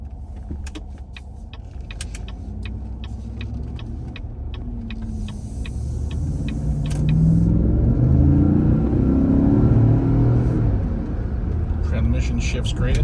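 A 2015 Cadillac Escalade Luxury 4x4 SUV cruises down the road, heard from inside as a smooth, steady low rumble with occasional light clicks, while someone talks over it.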